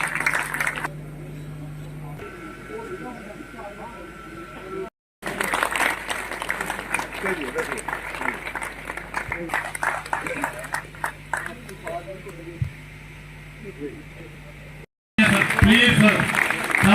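A crowd of veterans at a rally in Kathua applauds, with sustained clapping broken by two brief cuts. A voice speaks over the start before the clapping takes over.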